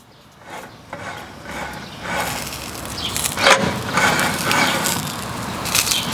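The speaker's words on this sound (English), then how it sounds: "We got the old butter wheel here." A butter wheel rolls butter across brioche New England style hot dog buns, giving soft, close rubbing and scraping strokes in repeated passes at moderate volume, with no talk.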